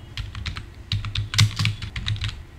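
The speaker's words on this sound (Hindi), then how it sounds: "इसके बाद टाइप कीजिए ई e बिहार" Fingers type on a computer keyboard in quick, irregular bursts of close, crisp keystrokes, with no talking.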